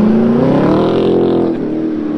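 A Chevrolet C7 Corvette Grand Sport fitted with an AWE exhaust revs up and holds, its loud, close engine note rising in pitch then easing off, with no talking over it.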